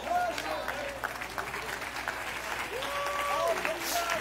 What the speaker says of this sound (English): that's the most pitiful hand clap I ever heard in my lifetime